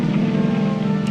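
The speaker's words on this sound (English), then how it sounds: "It's still raining." Steady rain falls without a break, heard from beneath an awning as a dense, even hiss with a low rumbling undertone and no voices.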